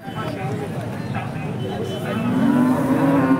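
Cattle moo at a busy cow market in Peth Vadgaon, with a rising drawn-out low moo swelling near the end over steady crowd murmur and background livestock noise.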